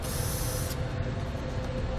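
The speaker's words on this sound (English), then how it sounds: "Now we're just going to use some lubricant to spray it down to make it a little easier to get off." An aerosol can of lubricant sprays the bolts of a Draw-Tite Max-Frame trailer hitch on a 2013 Lincoln MKX: a loud, close, continuous hiss that briefly cuts off and then starts again.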